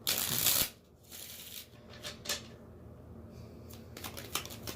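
Tarot cards riffle and shuffle close up, a loud burst of fluttering at first, then softer scattered snaps and slides as a few cards jump loose from the deck.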